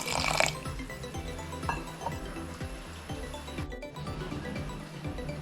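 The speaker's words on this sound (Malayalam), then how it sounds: "ശർക്കര ഉരുക്കിയെടുക്കാൻ വേണ്ടിയിട്ട് ഇതിലേക്ക് അരക്കപ്പോളം വെള്ളമാണ് ഒഴിച്ചെടുക്കുന്നത്" Water is poured over jaggery in a pan to melt it for a green gram laddu, making a trickling, splashing liquid sound with faint clinks, close and steady with no talking.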